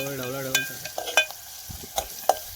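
Oyster masala, with onions and tamarind, stirred in a sizzling pan, giving sharp spoon scrapes and clinks against the metal over a light sizzle, and a brief voice sounds at the start.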